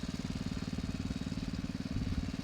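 Small engine driving a water well pump chugs in a fast, even pulse, a steady low throbbing that runs unbroken at moderate distance with no talk over it.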